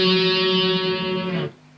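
A distorted electric guitar plays the opening verse part of a song, one bright sustained chord ringing alone for about a second and a half before it is cut off.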